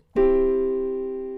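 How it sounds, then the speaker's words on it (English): A single piano major chord struck once and left to ring, sustaining cleanly and slowly fading in a quiet room. "Here is the sound of a major chord."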